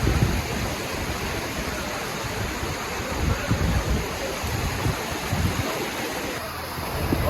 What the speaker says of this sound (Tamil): இந்த மண்மூடையும் வந்து மேலால் பாயுது